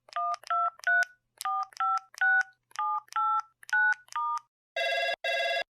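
A run of push-button telephone dialing tones, about a dozen crisp beeps in an uneven rhythm, followed by two long ringback tones, placed to start a sales call; loud and close with no talking.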